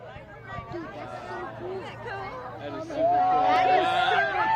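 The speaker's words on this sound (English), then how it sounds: "Let's just listen to the crowd and take in this moment." Outdoor crowd gathered in Seymour, Indiana during a total solar eclipse, a murmur of many voices with excited calls and whoops that swell louder toward the end.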